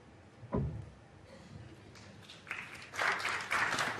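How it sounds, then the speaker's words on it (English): Snooker spectators at the British Seniors Open 2025 final break into a ripple of applause, a soft clapping that swells after a dull knock and continues steadily to the end. "ripple of applause and very much deserved"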